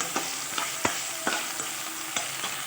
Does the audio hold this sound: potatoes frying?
yes